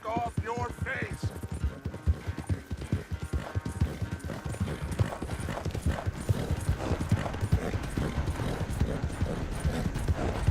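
Horse hooves gallop in Red Dead Redemption 2, a fast, steady clip-clop under a low ambient hum that runs through the whole stretch, with a voice briefly heard near the start.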